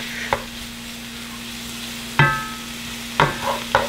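Chanterelle mushrooms frying in a cast iron pan at a campsite, with a soft steady sizzle and a few sharp clinks and scrapes as the pieces are stirred and turned, and no voices.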